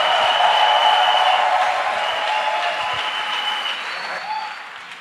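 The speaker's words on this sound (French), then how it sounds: "Acclamation à Jésus-Christ." Church congregation applauds and acclaims Jesus Christ, dense sustained clapping with a few voices rising through it, gradually easing off.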